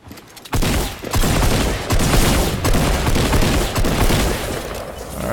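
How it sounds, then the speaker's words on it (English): Rapid bursts of gunfire from a gun in the video game Fortnite, a dense loud fusillade of overlapping shots starting half a second in and continuing without pause to the end. "We just pulled out our gun and we just shot him down."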